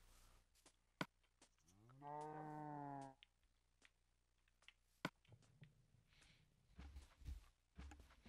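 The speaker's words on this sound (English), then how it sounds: "There's a cow here," A single Minecraft cow gives a clear synthetic moo lasting about a second, set among sparse game clicks and soft background noise.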